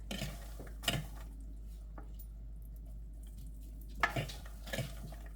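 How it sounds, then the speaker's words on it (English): A big fork stirs and tosses popcorn in melted butter, giving a few soft scraping, clinking stirs that stand out against a quiet, steady background hum. "stir up the butter, and drizzle the butter. And I like to stir it."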